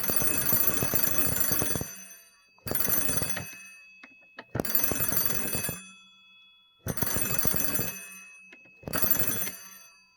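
A WWII German Feldfernsprecher 33 field telephone's mechanical bell rings loudly in five long bursts separated by short pauses, each a harsh metallic clatter followed by a faint lingering ding.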